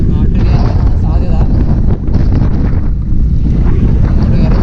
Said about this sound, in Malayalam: അങ്ങോട്ട് കയറി ഭയങ്കര കാറ്റാണ്